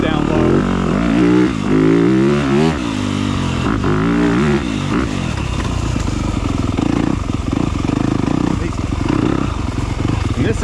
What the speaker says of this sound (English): These engines run smooth down low.